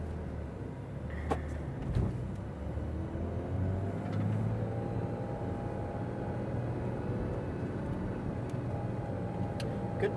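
A Porsche GT3 RS rolls forward from a stop on a driving course at Exotics Racing in Las Vegas, a steady low engine rumble with a few faint clicks and knocks, no voices.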